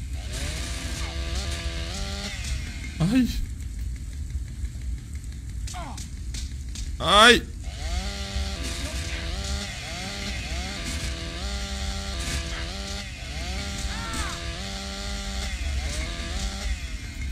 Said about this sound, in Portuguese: Vamos tentar a motosserra, então.